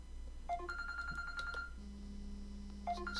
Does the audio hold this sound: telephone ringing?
yes